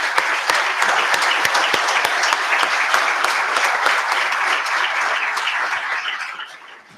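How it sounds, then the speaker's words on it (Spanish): Audience applause welcoming a speaker to the stage at a conference gathering: dense, steady clapping from a sizable crowd that holds evenly for several seconds and then fades out toward the end. "recibimos con un aplauso"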